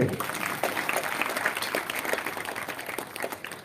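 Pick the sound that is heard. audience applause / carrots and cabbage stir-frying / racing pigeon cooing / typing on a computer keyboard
audience applause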